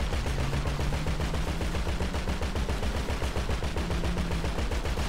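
Rapid sustained automatic gunfire in Grand Theft Auto Online, a dense unbroken stream of shots at steady loud level running the whole time, with a low engine-like drone underneath.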